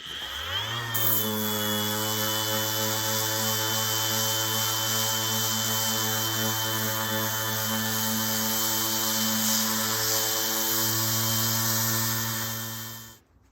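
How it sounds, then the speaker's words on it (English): A power sander roughing out a headplate, a steady loud motor whine with a strong hum and tonal overtones running continuously for several seconds before cutting off at the end. "This is a great sander for roughing things out, but it does leave swirl marks"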